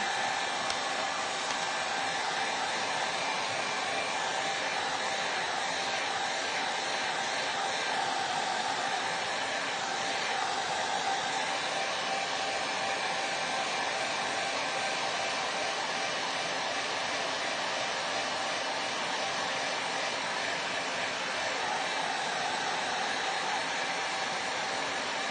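A hair dryer blowing over a thick patch of acrylic paint, a loud, steady, close whooshing roar that runs unbroken throughout with no talking.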